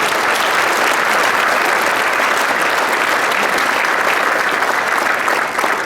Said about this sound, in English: Let's show all of them a round of applause